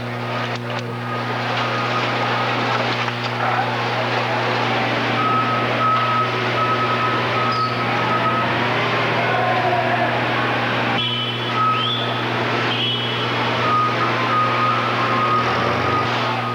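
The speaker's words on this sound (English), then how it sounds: "The boxes of peppers are then loaded by forklift onto the waiting huge trailer truck." Near the pepper packing shed, a forklift loads boxes of peppers onto a big trailer truck, its steady reversing beeps repeating over a continuous engine rumble and drone.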